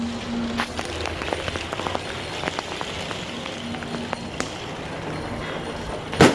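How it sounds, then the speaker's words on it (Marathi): Rain falls steadily on a hard surface, with scattered distinct drops and taps over a soft hiss; a brief sharp sound near the end. "बघू शकता पाऊस पडतो"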